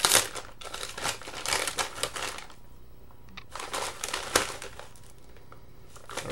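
Bag of Herr's Cheddar & Horseradish kettle chips being opened and handled, with loud close crinkling and crackling of the packaging in bursts, a brief quieter pause midway, then more rustling.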